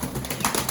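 Brief, soft coo of a Bukhara pigeon, a low murmuring call lasting under a second at close range.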